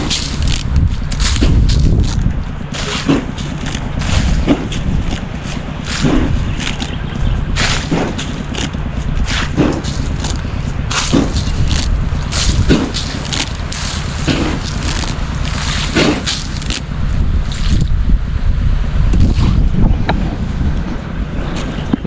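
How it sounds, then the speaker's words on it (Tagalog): Strong wind buffets the microphone in heavy, continuous gusts on an overcast day at a calamansi farm, with repeated rough blasts and low rumbling throughout. "sobrang lakas ng hangin"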